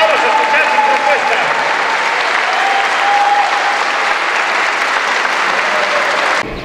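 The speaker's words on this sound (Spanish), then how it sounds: "Héctor Martín Nápoles, para el cual pido un fuerte aplauso." Sustained applause from a sizable crowd, steady and loud for several seconds before abruptly cutting off.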